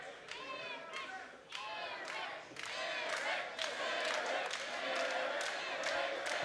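A loud, cheering home crowd packs a Toronto wrestling event, roaring and shouting continuously with bursts of clapping and yells that swell louder in the second half.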